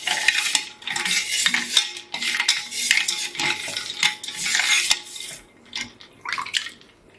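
A spoon clinks and swirls around a glass as an iced drink with almonds, pistachios and ice cubes is stirred, busy uneven rattling close up with brief pauses near the end.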